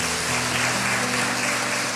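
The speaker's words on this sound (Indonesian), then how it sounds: "Tepuk tangan dong." A church congregation gives a short burst of steady applause, moderately loud and continuous, with no talking over it.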